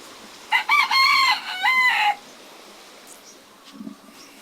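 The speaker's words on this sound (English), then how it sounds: "here we're down at the harbor with the chickens and roasters" A rooster at the harbor in Barangay St Francis, Limay, Bataan crows once, loud and close, a drawn-out call in several stretched syllables, followed by faint clucks and background noise.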